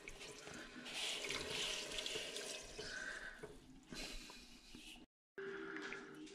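Dandelion honey syrup with a kilogram of sugar is stirred in a pot, making faint, continuous liquid swishing and sloshing with a brief silent gap near the end.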